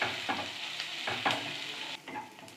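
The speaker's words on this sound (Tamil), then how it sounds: "இது நல்லா பொன்னிறமாக வதங்குற வரைக்கும் நல்லா வதக்கிக்கலாம்." Chopped onions sautéing in a pan for chana dal sambar, with repeated stirring scrapes over a steady low frying sizzle, close and moderately quiet, no voices.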